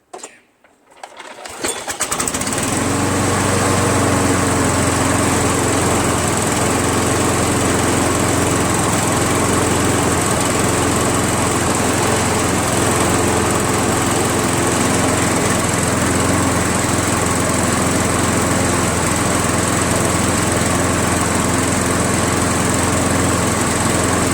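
A Craftsman high-wheel self-propelled lawn mower with a 6.75 Briggs Quantum engine, running on its original carburetor with tar-black oil, starts with a brief sputter and then settles into a loud, steady, close-up drone that holds without a break.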